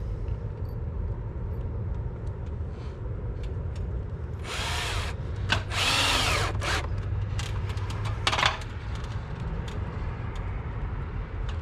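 Wood uprights are being toenailed into window framing while sheathing is adjusted. A low drone of machinery runs throughout, with a few sharp bursts of nail-gun or power-tool noise near the middle.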